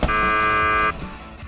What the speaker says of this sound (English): So there's this golden button buzzer.